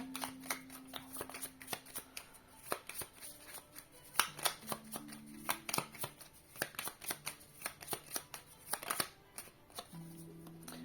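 Angel key oracle cards being shuffled by hand, a run of quick crisp riffling snaps and soft slaps, close and fairly quiet, with no one speaking.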